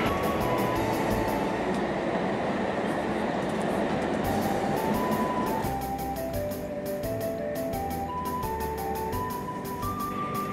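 Continuous rumble and rushing noise of a Shinkansen high-speed train in motion on the Joetsu line near Shibukawa, heard from inside, with sustained tonal whines rising and shifting over the steady roar.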